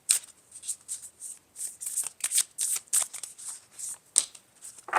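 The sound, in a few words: shuffling oracle cards for a tarot reading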